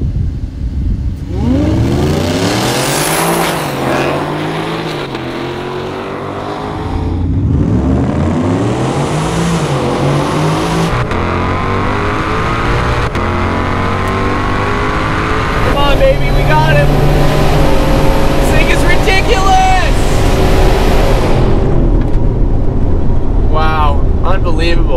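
A supercharged 2021 Ford F-150 Hennessey Venom 775 accelerates in a drag race against a GT500, engine climbing through gears in repeated rising sweeps with shift breaks, heard loud from inside the cab with occasional speech.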